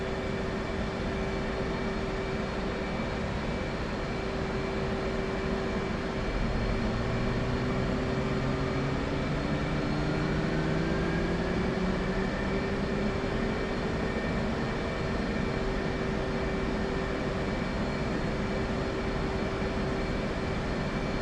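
The left engine of an F/A-18 in the DCS World flight simulator spools up with a steady turbine whine that slowly rises in pitch over a constant, loud roar lasting about twenty seconds.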